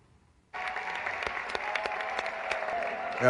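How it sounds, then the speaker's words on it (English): Polite applause from an audience at an evening event, starting abruptly after a moment of near-silence, then steady moderate clapping with a few sharper claps standing out. "Polite applause."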